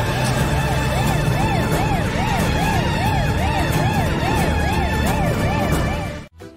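An ambulance siren wails loudly and continuously in a repeating rise-and-fall pattern over low traffic rumble, then cuts off abruptly near the end.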